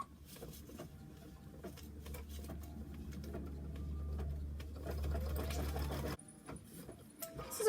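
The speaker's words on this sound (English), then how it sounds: "I'm going to go ahead and stitch the tack down." An embroidery sewing machine stitches a tack-down on Minky fabric, a steady fast mechanical chatter with a low hum that runs for several seconds and then stops abruptly, followed by quieter clicks.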